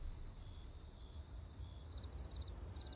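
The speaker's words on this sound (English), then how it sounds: "At night, insects are also more active." Insects chirping at night in a forest, a faint distant trilling that repeats in short pulsed bursts over a low rumbling background.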